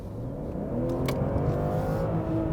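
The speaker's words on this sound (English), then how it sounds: "It also comes with a sound generator, so let me just show you in different drive modes." A 2021 BMW 540i xDrive inline-six engine in Eco Pro mode, with a sound generator, revving and humming steadily at moderate volume, a smooth droning tone with a brief higher swell in the middle.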